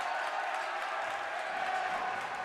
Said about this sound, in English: The crowd has come to life.